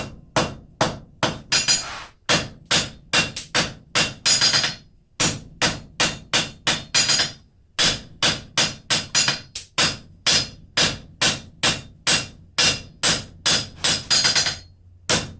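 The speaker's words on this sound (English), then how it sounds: "Back to the face of the anvil." A hammer strikes steel pickup tongs being forged on an anvil, sharp ringing blows in steady rapid runs separated by short pauses, loud and close with no talk.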